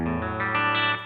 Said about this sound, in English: the sound here is just guitar into a clean amp model by 2 notes